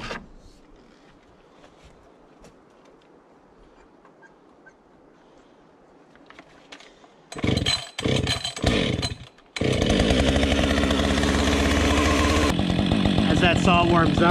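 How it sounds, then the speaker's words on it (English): A Husqvarna 555 chainsaw is pulled and catches, sputtering briefly, then roars to a loud, steady run close by, its engine note shifting as it revs. "That chainsaw is a Husky 555. We're going to fire it up."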